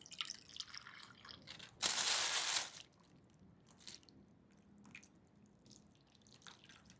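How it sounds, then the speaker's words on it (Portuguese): Tap water rushes into a cooking pot for tcholent in a short, loud burst lasting about a second, framed by soft drips and small wet kitchen sounds before and after. "Agora colocamos água natural até encher a panela."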